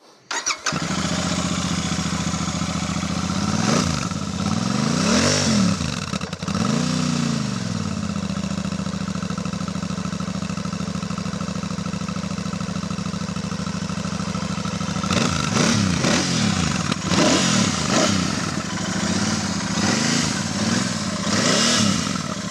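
A Royal Enfield Super Meteor 650 twin-cylinder motorcycle engine idles steadily, then revs up and down in bursts near the start and again toward the end, loud and close.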